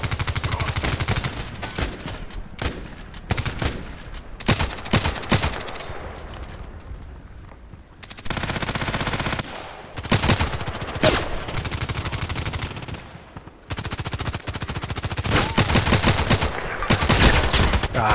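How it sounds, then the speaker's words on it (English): Gunfire in Contract Wars plays as dense, near-continuous rapid automatic bursts and rattling shots, loud and close, with brief lulls between volleys. "He's shooting to no one."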